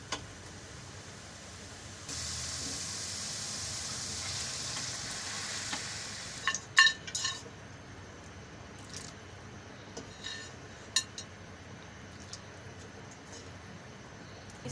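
Mutton trotters dropped into fried spices, a sudden bright sizzle that settles into quieter frying with a few sharp clatters and stirring scrapes, a voice faintly in the background.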